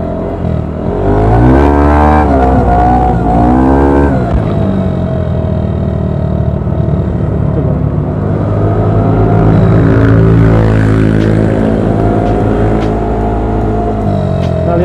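A Honda Beat 110 motorbike engine revs hard and loud during a wheelie test, rising and falling in pitch through sustained throttle blips close by, with a steady rumbling drone throughout.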